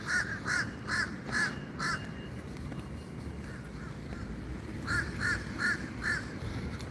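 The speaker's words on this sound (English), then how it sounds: "Listen to that bird. That's a crow." Crows in The Villages, Florida give bursts of four or five harsh caws, one bird louder and nearer with fainter replies between, over a steady outdoor background rumble.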